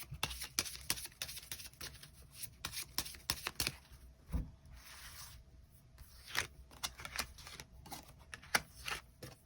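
Tarot cards being drawn and shuffled, soft irregular riffles, slides and taps up close and fairly quiet, with brief pauses between bursts of handling.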